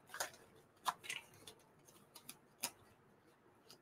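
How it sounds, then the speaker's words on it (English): Crinkly, ticking paper-and-plastic rustles come from a mini toy toilet paper roll being unwrapped from a mystery box, in several short, quiet bursts spread across the clip with pauses between. "Now I'm unwrapping my toilet paper."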